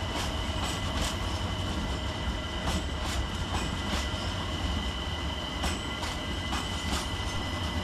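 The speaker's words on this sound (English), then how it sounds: "In the background we see Class 378 Capital Star 378212, terminating with a London Overground service from Clapham Junction." London Overground Class 378 Capital Star electric train at Stratford station, a steady rumbling roll with faint clicks and occasional wheel squeal, constant and close, no talking.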